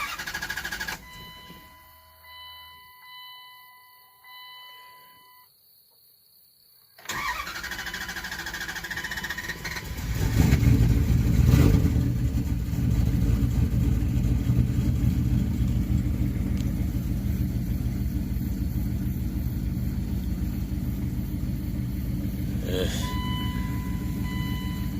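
Truck engine running rough after a new set of fuel injectors was installed; after a quiet start it fires up and settles into a loud, steady, uneven rumble, close by, with faint beeps early on.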